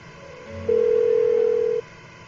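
A single phone tone from Persona 4 Golden, one loud steady electronic beep lasting about a second, ringing unanswered against quiet background sound.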